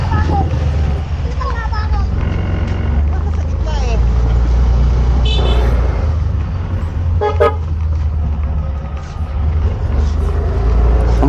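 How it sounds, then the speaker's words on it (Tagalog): A Yamaha NMAX scooter's horn gives short tooting blasts over a steady engine and road rumble while riding on a rough road in Camarines Sur. "Ang pangit ang busina ko."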